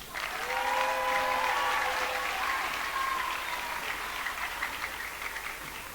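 At a 5th grade graduation at Rosewood Magnet, the audience breaks into full, continuous applause for Presidential Silver Award winners, a dense roomful of clapping that swells early and then slowly thins.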